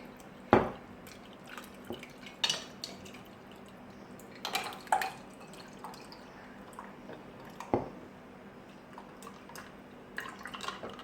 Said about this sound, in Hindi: ये मेसन जार है, इसके अंदर मैंने आइस क्यूब्स ऐड किए हैं। इसमें मैं ये कॉफ़ी ऐड कर रही हूँ।